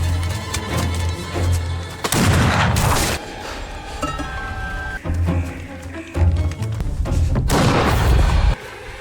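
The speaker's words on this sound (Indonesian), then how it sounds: "Dan tiba-tiba Frank melepaskan tembakan" Gunfire in a horror film scene: several loud, booming shots arrive in bursts, with heavy low-end impacts around a tense soundtrack and no clear speech.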